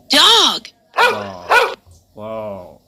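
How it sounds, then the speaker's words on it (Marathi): Dog barking, a few loud close barks and yelps with a growling tone, separated by short pauses. "हे काय आहे कुत्रा"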